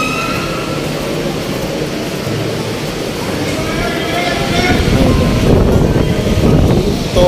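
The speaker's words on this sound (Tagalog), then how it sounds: "Ito, malakas ang hangin." Strong wind from Typhoon Enteng roars steadily through the whole stretch, buffeting the microphone with loud low rumble that swells toward the end, with rain and a voice faintly under it.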